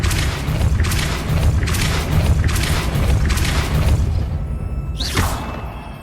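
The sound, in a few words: Depulso spell cast in Hogwarts Legacy video game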